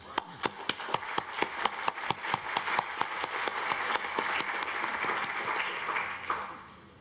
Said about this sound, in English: I propose to give them a big applause